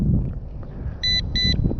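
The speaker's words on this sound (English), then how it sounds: "that beeping is a signal alarm letting you know, hey, you're out of signal" Two short electronic beeps in quick succession, high-pitched and clear, from a budget brushless GPS drone's out-of-signal alarm, over a low rumble of wind noise.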